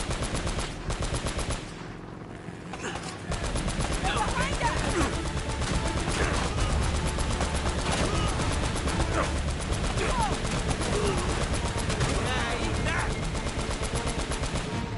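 Dense, continuous automatic gunfire from the Uncharted video game, rapid bursts and single shots layered over each other for the whole stretch with barely a pause, steady and fairly loud.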